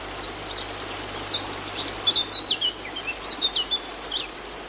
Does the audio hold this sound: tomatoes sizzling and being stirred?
no